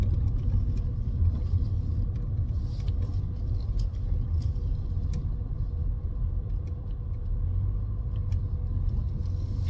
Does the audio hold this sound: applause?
no